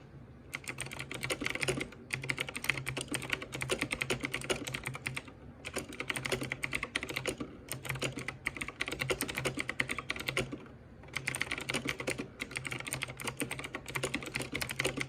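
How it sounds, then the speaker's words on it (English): Rapid, clicky keystrokes on a blue-switch mechanical keyboard at a desk setup, typed close up in steady bursts separated by short pauses. "I like the feel and sound of blue switches"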